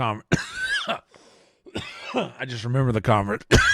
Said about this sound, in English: I'm sorry for coughing on you guys.